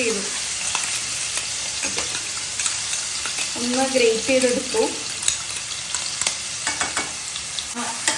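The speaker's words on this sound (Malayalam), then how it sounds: "നമുക്ക് ഇഞ്ചിയും വെളുത്തുള്ളിയും പച്ചമുളകൊക്കെ കഴിഞ്ഞ് ഇട്ടൊന്ന് സോട്ട് ചെയ്യുമ്പോൾ ഒരു നല്ലൊരു സ്മെല്ല് വരും" A coarse ginger, garlic and green chili paste sautéing in a pan for a beef roast, with a steady close sizzle and stirring scrapes while a person speaks briefly over it.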